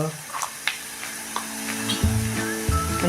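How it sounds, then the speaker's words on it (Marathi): Onions sauté in a pan with a soft steady sizzle and occasional stirring clatter, heard close beneath a person talking. "अजून एक दोन मिनटं आपण हा गुलाबी रंग येईपर्यंत परतून घेऊया"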